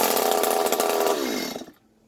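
A Stihl MS 250 chainsaw runs loud and close, its engine roaring steadily before it winds down and cuts off at the end.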